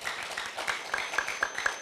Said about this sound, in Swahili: Piga makofi kwa CCM.